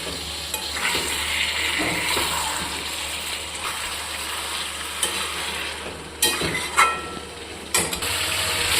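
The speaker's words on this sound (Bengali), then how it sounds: "এইরকম হাই ফ্লেমে করে পাঁচ মিনিট ভালো করে কষাবো" Chicken masala stirred and sautéed over a high gas flame, a steady close sizzle with spatula scraping and occasional sharp clanks against the pan.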